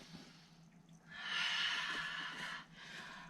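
A long, steady exhale during a vinyasa yoga flow, breath rushing out with soft airy noise for about a second and a half, close and clear, then fading into quieter breathing.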